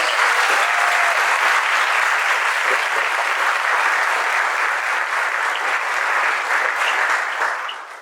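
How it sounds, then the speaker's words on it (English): A large keynote audience gives a round of applause for a film challenge panel, a loud, dense, sustained roar of clapping that holds steady and then fades at the end. "One more round of applause for our panelists."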